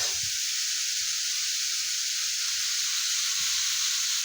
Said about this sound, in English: So let's fry up these wonderful mushrooms with some garlic.